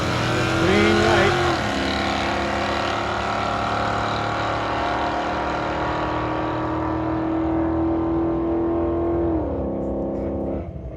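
Super Sport drag racing cars launching off the line at Bowling Green in 2020, a loud sustained engine roar rising in pitch as they accelerate down the strip, with an announcer talking over it.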